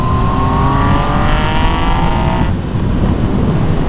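Motorcycle fitted with a full aftermarket exhaust line revving hard and close, rising engine harmonics climbing through a sustained loud pull before easing off into a rumbling idle.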